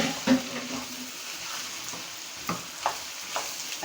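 Chicken mince for qeema frying in a pan with already fried onions makes a steady close sizzle, broken by occasional scrapes and knocks of stirring, with no talk.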